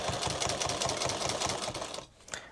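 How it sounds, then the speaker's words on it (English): A sewing machine runs a steady, rapid stitch along a duffle bag seam, close and loud, then stops abruptly near the end with a brief clack afterward. "I always sew the second line in here if something happens to the first"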